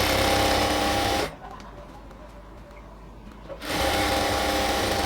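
A sewing machine runs lock stitches on pant fabric in two loud, close bursts, separated by a quiet pause of about two seconds.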